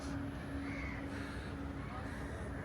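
Crows caw around an old coastal fort with cannons and a lighthouse at Georgetown. The calls are fairly faint and drawn out over a steady wash of wind and outdoor noise.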